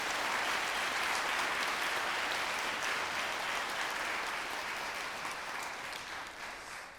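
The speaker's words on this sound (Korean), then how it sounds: "우리 프라임 필하모닉 오케스트라를 위해서 한번 박수 한번 쳐주시면 고맙겠습니다." A concert hall audience at the Seoul Arts Center IBK Hall applauds the Prime Philharmonic Orchestra, a broad, even roar of many hands clapping that holds steady and slowly thins toward the end.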